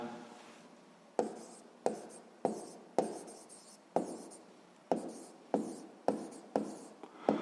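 Pen writing on paper while a maths problem about a field's area is worked out: about a dozen sharp, scratchy strokes in a steady rhythm, each a crisp tap trailing off, close and fairly quiet with no talk.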